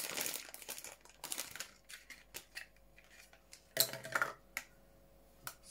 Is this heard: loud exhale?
no